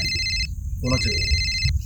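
A mobile phone rings with a bright electronic ringtone in repeated bursts, close and loud, interrupted once by a short voice amid background noise.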